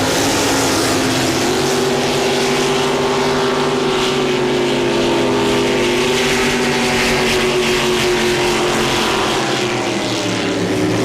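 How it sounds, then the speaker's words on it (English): Jet boat engines at a drag boat racing final roar loud and steady throughout, a sustained high engine drone with shifting tone as the boats run. "In this particular final, both boats are jet boats."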